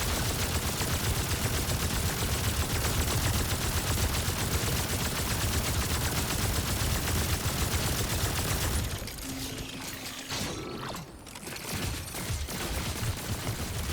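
Rapid gunfire from a weapon in the game Remnant 2, a dense, loud, continuous burst of shots lasting several seconds before cutting to quieter game sounds with occasional faint clicks and effects.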